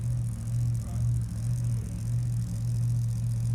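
A drag racing funny car idles at an ANDRA Summit Sportsman Series event in Portland with a deep, lumpy, throbbing rumble, steady and close, with no voices.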